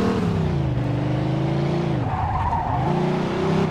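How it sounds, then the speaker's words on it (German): A truck drifts in the video game Mafia II, tyres skidding in a loud, continuous screech over a steady engine drone that bends in pitch midway through the slide. "Ah, schöner Drift."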